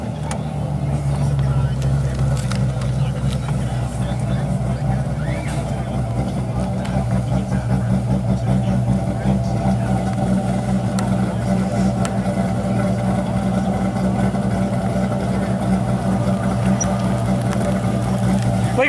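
Corvettes on street tires rumble and rev in a street race, a continuous loud engine drone with deep throb and surging pitch, under people talking nearby.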